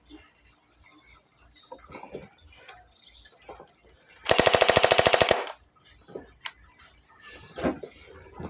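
A pellet gun, reportedly faulty, lets off a rapid burst of about a dozen sharp, loud cracks lasting roughly a second, with quieter indoor bumps, handling sounds and background chatter around it.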